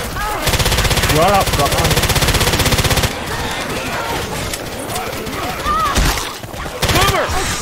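Rapid automatic gunfire rattles in tight bursts while shooting zombies in Left 4 Dead 2 on a custom map, loud sustained volleys then scattered shots, with players talking over the action.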